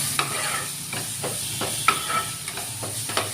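Garlic paste fries in oil as a tempering for masoor dal, a close, even sizzle with repeated soft scraping strokes of stirring and an occasional light clink, no voices.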